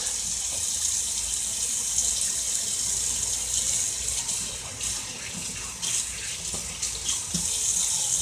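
Steady rush of water from a running kitchen tap while a knife is rinsed under it during cooking prep, continuous and close with small clinks and shifts in the flow.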